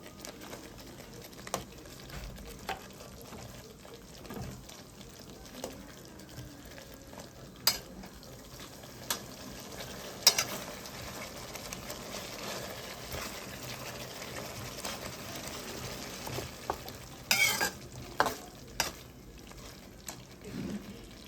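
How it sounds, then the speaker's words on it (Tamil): Chicken stuffed with prawn fries slowly over a low flame for malai chicken, with a steady soft sizzle and occasional louder clicks as it gets stirred in the pan. "இதில் அப்படியே ஸ்லோ ஃபயர்லேயே நம்ம வந்து கொஞ்சம் அப்படியே குக் பண்ண போகிறோம்"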